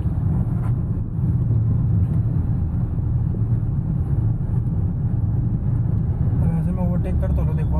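A car engine drones steadily in fourth gear while driving along a road, a constant low rumble under ongoing talk inside the cabin.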